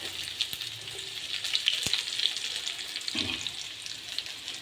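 Chopped onion, garlic and cumin seeds fry in hot oil with a steady, moderate sizzle up close, marked by a couple of sharp clicks and a brief scraping stir near the end.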